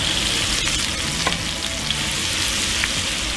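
Mushrooms, onion and garlic frying in a hot pan, a dense, continuous loud sizzle with a few faint utensil taps, close up and without speech.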